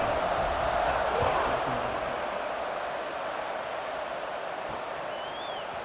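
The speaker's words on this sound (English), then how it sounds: "this crowd is buzzing after that last score" Football stadium crowd at Syracuse versus FSU buzzing after a touchdown, a dense, steady roar with scattered shouts that stays loud and constant throughout.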